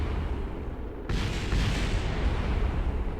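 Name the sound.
explosion in the video game Kerbal Space Program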